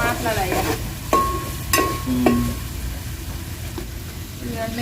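Ginger garlic paste sizzles steadily in a frying pan with a constant hiss and occasional stirring clinks, while people talk nearby.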